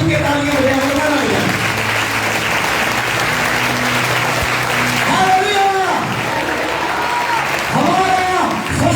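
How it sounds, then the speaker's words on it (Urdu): Sustained congregation applause at a Holy Thursday church service, dense steady clapping under loud music and singing voices throughout. "اگر جی چاہے تو کھل کے تالیاں ہو جائیں"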